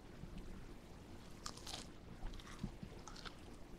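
A crisp bite into a Burger King hand-breaded original chicken sandwich gives a few close crunches and soft chewing over quiet background hiss, with no talking.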